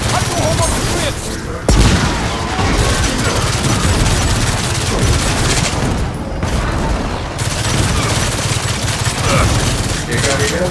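Dense, continuous bursts of automatic gunfire in the Gears of War 4 video game, loud and close, with heavy booms mixed into the barrage throughout.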